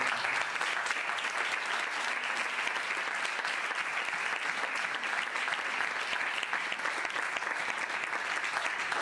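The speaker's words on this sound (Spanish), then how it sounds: "pediría es un aplauso a todos los participantes y sobre todo a los dos directores por el trabajo" Audience at a closing ceremony for an awards contest applauds continuously, a dense, steady clapping from a large crowd that fills the whole stretch without talk.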